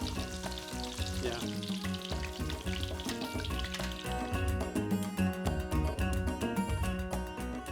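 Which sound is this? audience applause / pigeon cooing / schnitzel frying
schnitzel frying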